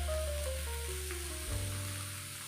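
Bottle gourd pieces sizzling in a hot pan as they are stirred in, a steady close frying hiss lasting throughout with a tonal hum alongside.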